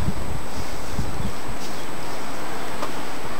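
Steady wind roars across the microphone in a loud, broadband rush on a cold, foggy day at Enchanted Rock, with a few low buffeting thumps early on.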